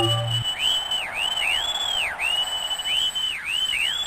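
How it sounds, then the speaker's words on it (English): Harsh electronic whistling from the 32X boxing game Tough Man Contest: a brief low tone, then a string of shrill gliding whistle notes that rise and fall in quick arcs, loud and alone. "It's a Punch-Out clone, just one with worse controls, a terrible field of view, and some harsh whistling"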